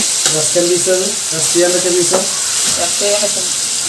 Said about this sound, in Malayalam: ഒന്ന് വറുത്തെടുക്കട്ടെ കുഞ്ഞു കുഞ്ഞു മീനാണ് വറക്കട്ടെ